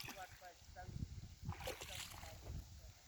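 Irrigation water splashes and sloshes along a channel into a sugarcane field being planted. The flow is quiet and sits under someone talking close by, with a few brief splashes rising above it.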